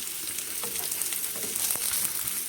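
Sausage frying in a thin coat of oil in a pan, giving a steady, dense sizzle with a few soft pops and crackles, close and alone without talk.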